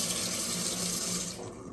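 Water runs hard into a toilet tank refilling after a Pikets bidet is installed, a close steady hiss and gush that tapers off near the end.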